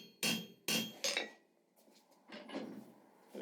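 A hammer striking hot steel on an anvil to flatten the end into a wreath leaf, three sharp ringing blows in quick succession followed by softer, quieter taps, close up.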